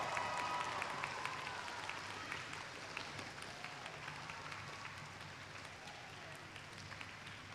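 An audience at a graduation ceremony claps in sustained applause, starting strong and slowly thinning out, a dense patter of many hands with faint voices underneath.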